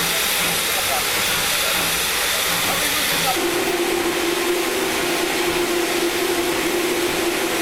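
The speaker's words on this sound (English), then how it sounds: "no one gives this impressive example of steam traction a second glance." A Polish steam locomotive standing at Poznan station gives off a loud, continuous roaring hiss of steam, close by, with a steady tone rising beneath it partway through.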